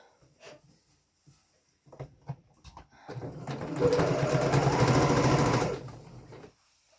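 A sewing machine stitches a waistband seam, running in a steady, fairly loud burst of a few seconds after some handling clicks, then stopping.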